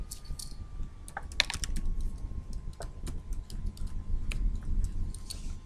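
Light typing on a computer keyboard, scattered close keystrokes ticking over a low background rumble and a faint steady tone.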